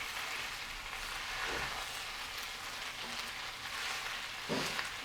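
Bitter greens fry over medium heat in oil in a pan with almonds underneath, giving a steady, faint crackling sizzle that holds for several seconds with a few slightly louder pops, and no voices.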